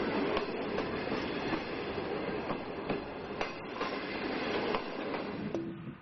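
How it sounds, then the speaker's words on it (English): A train rides on rails through the forests of northern China in Mohe County, a steady rolling rumble with rhythmic wheel clicks and a brief metallic squeal near the end, with no voices. "consider taking the train"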